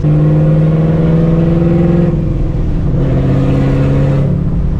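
Supercharged 600 HP 2004 Ford Mustang GT on a stock engine driving, a loud, deep, steady engine drone with a gear change partway through, heard from inside the car with no talk.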